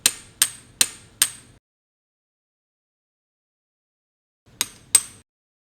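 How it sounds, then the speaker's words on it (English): Chisel struck against cartilage on the posterior femoral condyle during a total knee arthroplasty: four sharp, evenly spaced taps in quick succession, a pause, then two more, close and fairly loud with nothing else around them. "using a chisel, remove the cartilage on the posterior condyle"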